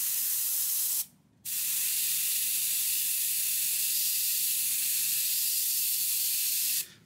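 An airbrush sprays paint in a hobby scale-modelling setup, giving a steady, loud, close hiss that stops for a brief moment near the start, then runs on and cuts off at the end.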